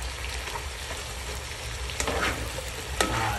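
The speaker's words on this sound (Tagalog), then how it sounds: "Halo muna natin." Sponge gourd and string beans sautéing in a pan make a steady soft sizzle, with a couple of faint scrapes and clinks as they are stirred.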